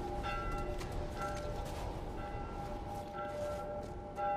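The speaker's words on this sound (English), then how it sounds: "That fucking bell is really frickin' annoying me." Bell ringing in the video game The Last of Us Part 1, repeated sustained tolls with clear ringing overtones, faint against a noisy rumbling game background.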